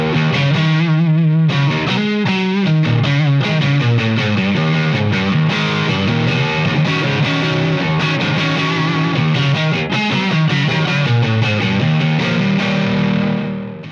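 Electric guitar played through a Victory Sheriff amplifier set for high-gain, distorted tone, chugging chords and sustained notes ringing loud and continuous, with no talking.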